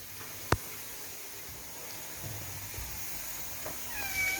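A cat meows softly a couple of times near the end, faint over a low, steady background hum.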